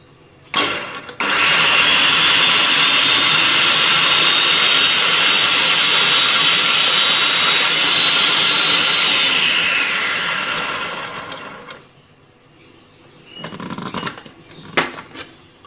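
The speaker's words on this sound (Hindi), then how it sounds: "2 सब्ज़ मिर्चें बारीक कटी हुई चॉपर में डालेंगे, 1 छोटी प्याज, 2 खाने के चम्मच सब्ज़ धनिया" Electric chopper whirring loudly and steadily for about ten seconds as it minces green chillies, a small onion and fresh coriander for shami kebabs, then winding down into quiet, with a few knocks and rattles after.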